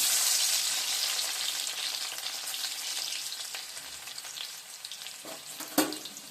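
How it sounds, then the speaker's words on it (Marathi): Garlic frying in about two spoons of oil in a pan for Maharashtrian matki curry, a steady hiss that eases slightly, with a few faint knocks near the end and no voices. "प्रथम आपण त्याच्यामध्ये लसण टाकून घेऊया।"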